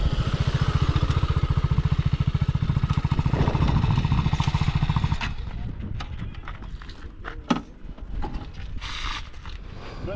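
A TVS Apache RR 310 sports motorcycle's engine drones loud and steady with a rapid pulsing throb for about five seconds, then drops to a quieter, uneven running sound with scattered clicks and bumps.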